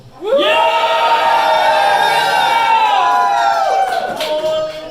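A live audience at a roast lets out a loud, sustained cheer that swells suddenly and holds for several seconds before fading slightly.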